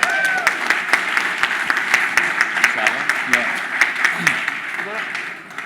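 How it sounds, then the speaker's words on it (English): Audience applause for a startup winner at a tech center awards session, a dense, sustained clapping from a sizable crowd that holds steady for several seconds before tapering off. "Please round of applause for Swiftmile."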